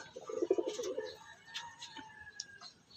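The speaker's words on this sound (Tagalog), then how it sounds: "Tapos na maligo yung mga kalapati ko." Pet pigeons that have just bathed give a low, soft coo early on, followed by faint scattered chirps and shuffling sounds nearby.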